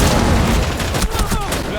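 An explosive detonation in the video game Rainbow Six Siege bursts loud and dense, a crackling rumbling blast with debris-like pops that fills the short moment, with a voice faintly mixed in.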